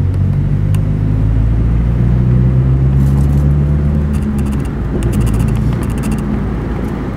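A steady low engine drone and road rumble from inside a moving Subaru WRX (VAB) with a Fujitsubo Authorize RM exhaust, close to stock in tone, constant and fairly loud throughout.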